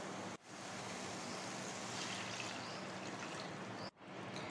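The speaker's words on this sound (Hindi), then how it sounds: "ये मसाला अच्छी तरह से पक चुका है, तो मैं इसमें डाल रही हूँ अब पानी।" Water is poured into cooked masala in a pot for curry, a continuous rushing splash lasting several seconds with two brief breaks, moderately close and without talk.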